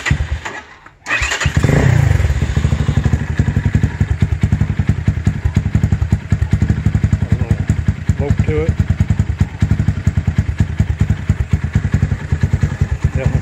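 A Venom X22R 250 motorcycle with a newly installed Wiseco 11:1 piston and cam fires up after a brief stall, then idles nearby with a loud, rapid, steady exhaust thump and mechanical clatter, a voice speaking over it.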